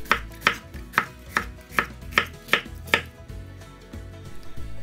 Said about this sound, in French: on va les détailler en lamelles avec une épaisseur d'1 cm environ, en coupe droite ou en biais